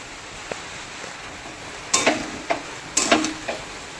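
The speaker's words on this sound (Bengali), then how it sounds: "তো আগে ভেজে নিচ্ছি সব কিছু দিয়ে" Ingredients for khichuri frying in a pan under a soft steady sizzle, with several sharp clinks of a spoon stirring against the pot, a few in quick pairs.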